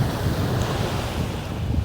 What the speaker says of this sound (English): they say this is the Atlantic Ocean